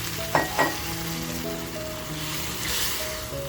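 Water is poured into a pan of spicy dry fish cooking with garlic and green chilli, setting off a loud, steady sizzle with two quick splashy bursts near the start.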